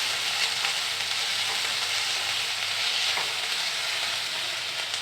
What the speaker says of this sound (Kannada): ಇದು ಸ್ವಲ್ಪ ಗೋಲ್ಡನ್ ಬ್ರೌನ್ ಆಗೋವರೆಗೆ ಮಾತ್ರ ನಾವು ಫ್ರೈ ಮಾಡ್ಕೋಬೇಕಾಗುತ್ತೆ